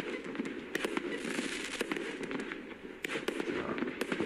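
A fireworks cake goes off at a distance with a steady crackling barrage and repeated hard bursts, several standing out as sharp pops over the continuous roar.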